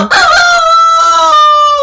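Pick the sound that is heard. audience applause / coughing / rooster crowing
rooster crowing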